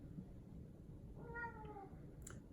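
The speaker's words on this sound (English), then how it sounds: "Here's my cat talking again." A house cat gives a single drawn-out meow, moderately close, over a steady low background hum with no talking.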